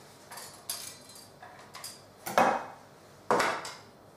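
A whisk working cheesecake batter of fromage blanc and vanilla seeds in a bowl: sparse clinking and scraping taps against the bowl, a few louder strokes, quiet and close, with no talking.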